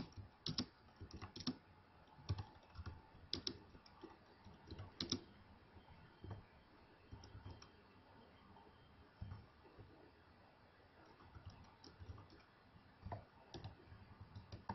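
Quiet, close keystrokes on a computer keyboard tap in an uneven stream of clicks with occasional louder key presses, as commands are entered in a Linux shell.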